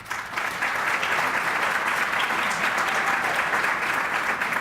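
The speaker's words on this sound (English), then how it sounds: "May I all ask for a round of applause, Chicago Gay Men's Chorus, for opening this evening's program." An audience at the Chicago LGBT Hall of Fame induction ceremony gives the Chicago Gay Men's Chorus a sustained round of applause, a dense, even roar of many hands clapping with no break.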